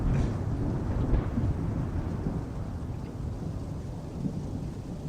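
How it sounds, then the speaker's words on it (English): Heavy rolling thunder rumbles on and on, deep and close, through a steady rainstorm with wind, loud and continuous with no voices. "here comes more thunder"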